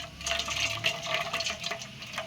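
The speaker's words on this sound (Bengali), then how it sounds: "ম্যাগির জল ঝরানো হয়ে গেছে" Water from boiled Maggi noodles pours through a strainer in a steady splashing rush with faint sink-like trickling, close and continuous for a couple of seconds with no talking.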